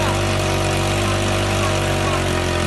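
A motorcycle engine rigged to drive a heavy sugarcane crusher runs at a steady, loud, unbroken roar, its low mechanical drone constant throughout.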